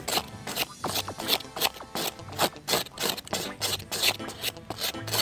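Beetroot skin scraped off with a blade outdoors, a close series of rough, rhythmic rasping strokes, roughly two per second, repeating with no talking.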